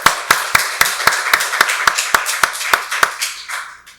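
A church congregation at a Sunday worship service claps in steady, sharp unison, about four beats per second, giving glory to God. The claps are fairly close and fade out toward the end.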